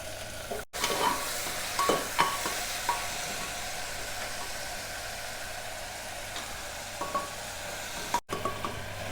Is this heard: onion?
yes